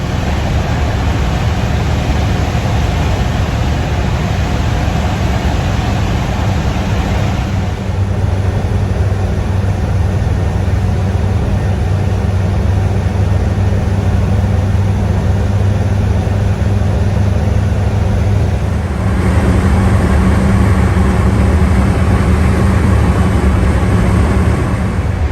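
The engine of a hot-rod Ford Shoebox car drones steadily as it climbs a mountain pass, loud and continuous, with the engine note shifting twice as the car downshifts.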